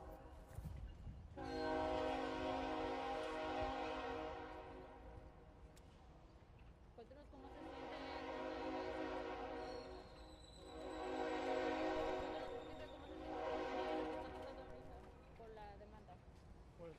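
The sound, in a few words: train passing by with horn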